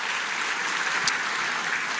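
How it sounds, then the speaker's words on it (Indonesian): A church congregation applauds during a service, a steady dense wash of clapping that stays even and fairly loud for the whole stretch. "Berikan tepuk tangan kita untuk Tuhan kita."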